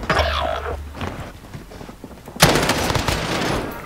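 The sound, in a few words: gunfire from video game Call of Duty Warzone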